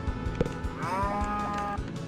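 A cow moos once in the Harvest Moon video game, a single drawn-out, tonal moo in the middle, set against soft game music and light tapping sounds.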